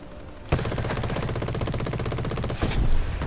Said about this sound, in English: that's how I fire rockets